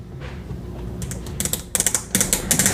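The range selector dial on an EverStart 10711WDI manual-ranging multimeter, a cheap Walmart meter, turned close up, giving a quick series of crisp ratcheting clicks that grow louder and come in bursts.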